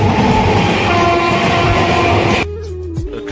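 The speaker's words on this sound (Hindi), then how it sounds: "पता नहीं शायद कोई ट्रेन आ रही है दरभंगा से समस्तीपुर के लिए" A train rolls loudly past Haighat railway station on the Darbhanga–Samastipur line, a steady close rumble of wheels and cars for over two seconds before it cuts away to quieter platform ambience with a brief tonal horn-like note.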